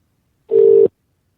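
A single steady electronic telephone tone sounds for about half a second, loud and clean against silence, as a call is placed back to a caller on a late-night radio phone-in line.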